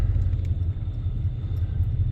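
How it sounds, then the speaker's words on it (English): Several cars pass along a road below a hill, heard beside a parked Ford F-150 with a 5.8-liter V8 set up for towing, a steady, fairly loud low rumble of traffic with no talking. "I gotta stop waiting on this car to come by."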